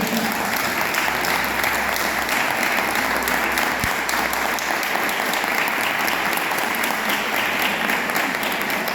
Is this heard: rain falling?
no